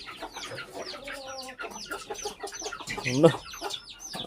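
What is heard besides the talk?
guinea fowl and chicks clucking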